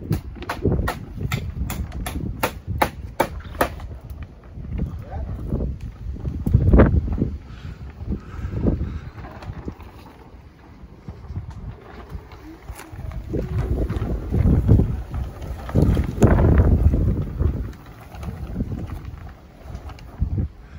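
Strong gusty wind buffets an allotment plot where a polytunnel frame is being covered, roaring in surges with rustling and flapping of sheeting, loud and close throughout.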